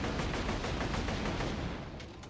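A new gun fires in the video game Borderlands 2. The shots come in a rapid, dense burst of crackling reports throughout, fairly quiet overall, with a few sharper snaps near the end.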